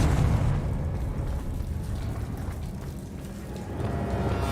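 A Confringo spell blast in the Hogwarts Legacy video game erupts as a heavy, rumbling explosion with a long roaring, crackling tail that fills the whole stretch, loud and close with no talk.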